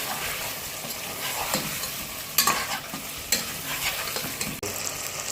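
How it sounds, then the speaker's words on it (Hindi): Potatoes are stirred and tossed in a frying pan over an ongoing sizzle, with several sharp spatula knocks and scrapes against the metal, close and unaccompanied by talk. "अब इसमें हम आलू डालेंगे। और इसको अच्छी तरह से मिक्स कर लेंगे।"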